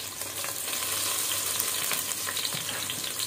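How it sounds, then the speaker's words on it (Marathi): Chana dal and peanuts roast in hot oil, giving a steady close sizzle with light scraping and rattling as they are stirred. "त्याच्यामध्ये आता ही डाळ आणि शेंगदाणे परतून घ्यायचे थोडे."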